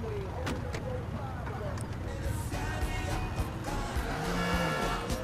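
A car driven off in the video game Grand Theft Auto IV, its engine droning steadily with a brief tire squeal and passing traffic, while someone talks over it throughout.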